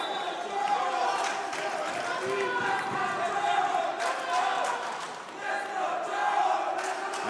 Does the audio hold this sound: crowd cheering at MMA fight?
yes